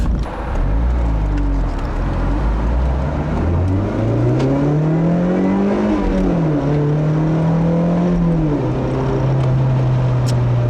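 A current-generation Mazda Miata sports car engine drones loud and close from inside the car as it drives, its pitch climbing smoothly through the revs, dipping at a shift, then holding a steady cruise.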